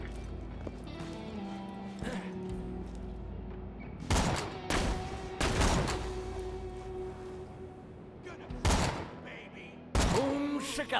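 Several sharp, loud gunshots ring out at irregular intervals over a low ambient hum in Borderlands 2, each one isolated with a short echoing tail.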